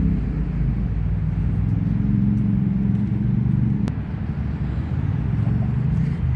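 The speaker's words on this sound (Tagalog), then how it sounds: "Ang traffic. Oh, grabe, ang daming sasakyan." Heavy road traffic with many cars rumbles steadily nearby, a loud continuous low engine drone with a single sharp click partway through.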